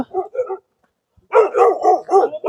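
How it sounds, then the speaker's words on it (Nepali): Large dogs along a quiet rural hiking trail bark loudly and close by, with a short volley of barks, a brief silence, then a longer run of rapid, overlapping yelping barks. "कुकुरहरू पनि हाउरा गरिरहेको छ"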